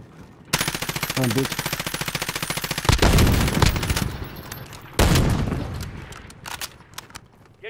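Automatic gunfire in the video game Call of Duty: Warzone crackles in rapid, dense bursts that loudly fill most of the span, with a voice speaking briefly over it.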